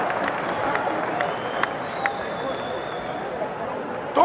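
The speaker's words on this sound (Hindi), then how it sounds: "ठोको ठोको, ताली ठोको।" Crowd clapping at an outdoor Punjab political rally, a steady dense wash of applause from many hands, fairly distant and even, with a louder swell right at the end.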